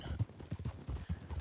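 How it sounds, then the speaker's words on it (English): About fourteen horses and a wagon trot toward a fort in Red Dead Redemption 2, hooves making a steady, rhythmic clip-clop with no talk over it. "All of a sudden we hear the trotting of about 14 horses and a wagon approaching the fort."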